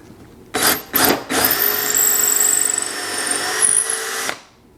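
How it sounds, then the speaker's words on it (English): A power drill whirs up in a few short bursts, then runs steadily for a few seconds before stopping, drilling through holes in a wooden drawer front, loud and close with no talking. "we'll just finish drilling those through holes so we can mount our hardware"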